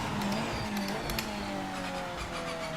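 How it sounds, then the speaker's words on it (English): The engine of a Nissan GT500 race car in Project Motor Racing drones steadily at a fairly constant pitch, with whining harmonic tones and a few faint clicks over a quiet background. "This car actually sounds and feels great."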